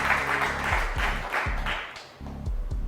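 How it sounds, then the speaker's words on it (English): Audience applause for schoolgirl and college quiz contestants at a Bank of Uganda challenge between Tororo Girls and St Henry's College, a steady dense clapping crowd with rhythmic low thumps running underneath, loud and sustained throughout. "Let's give them a huge round of applause."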